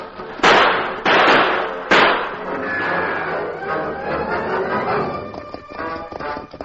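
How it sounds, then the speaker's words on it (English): Gunfire in a radio drama about crooks shooting at troopers: three sharp, loud reports in the first two seconds, followed by a lingering echoing tail and mixed background sound. "Tonto, those crooks are busy firing at the troopers."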